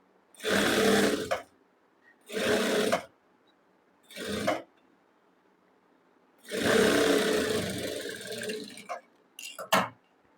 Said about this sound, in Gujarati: હવે તેની ઉપર આપણે બીજી સિલાઈ લગાડવાની છે.